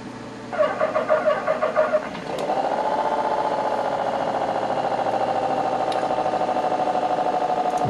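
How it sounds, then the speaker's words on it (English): A first-generation Suzuki Hayabusa motorcycle engine cranks with a rapid stuttering starter, catches, and settles into a steady mid-pitched idle hum, close and fairly loud. "We'll go ahead and start the engine."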